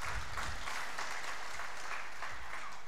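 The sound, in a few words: loud applause for organizers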